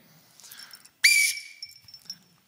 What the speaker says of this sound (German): Die Pfeife pfeift.